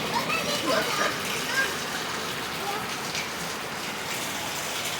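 Steady rain falls and splatters on surfaces while children bathe and play outdoors, a dense hiss of raindrops with occasional splashes and voices talking over it.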